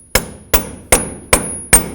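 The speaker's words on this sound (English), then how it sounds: "take a punch and your hammer and go right in the center and give this a couple bonks until it breaks free" Hammer striking a punch to break a lower ball joint free on a 1988-2002 GMC Sierra 1500, five sharp metallic blows at a steady, even rhythm, close and alone.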